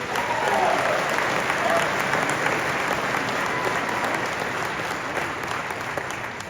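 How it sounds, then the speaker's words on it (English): Audience applause fills a product keynote hall, steady, even clapping sustained for several seconds and tapering slightly toward the end. "So, a little round of applause maybe just for the one."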